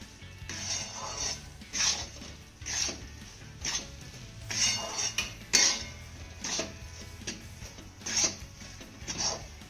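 Ingredients are stirred and roasted in a pan with dry ginger powder, a rhythmic series of scraping strokes of a spoon across the pan with light metallic clinks, close and fairly quiet.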